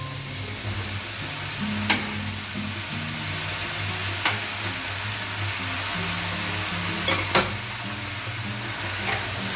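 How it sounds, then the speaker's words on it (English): Pad see ew noodles are tossed and stir-fried in a hot pan, a loud continuous sizzle broken by several sharp clanks and scrapes from a utensil against the metal. "as soon as the noodles are ready, just grab onto them and throw them in the pan"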